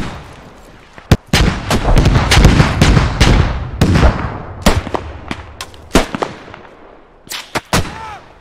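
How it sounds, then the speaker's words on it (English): Mortar and artillery fire in the tactical shooter Squad during a 40 vs 40 battle, with a rapid cluster of sharp reports and rumbling booms followed by scattered, spaced blasts, some near and some distant. "Mortars are fucking fantastic."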